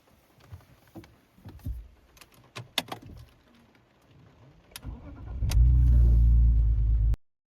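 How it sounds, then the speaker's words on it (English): A BMW E46 starts at night: scattered clicks and key jangles come first, then the engine fires and runs loud and close for a couple of seconds before cutting off abruptly. "This time I'm driving my E46 to the Wörthersee 2026."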